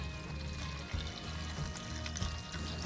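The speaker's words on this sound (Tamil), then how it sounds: "முதல்ல குறிஞ்சா இலையை எடுத்து துப்புரவு செய்து இந்த மாதிரி கழுவி எடுத்துக்கொள்ளுங்க" Kurinja leaves being washed in water, a steady pouring and sloshing with a few louder splashes, close by and continuous.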